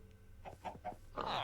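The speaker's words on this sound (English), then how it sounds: "Okay, let's spawn some chickens." Minecraft chickens in a superflat world clucking in a quick run of three short, mid-pitched clucks, then a brighter burst, fairly close and moderately loud with no talking.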